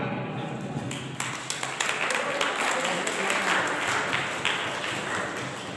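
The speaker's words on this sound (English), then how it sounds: "please clap for him" At a student speech competition, an audience claps for a student speaker in a steady, crowded patter that lasts throughout, with a few louder individual claps and faint voices mixed in.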